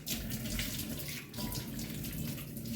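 Water running steadily from a kitchen sink tap as fruit is rinsed, a constant close rushing splash with no talk.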